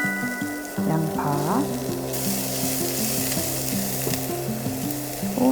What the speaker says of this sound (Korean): 달달달 볶아주세요